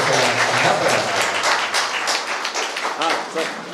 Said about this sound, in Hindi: तालियां आप लोग बजाइए।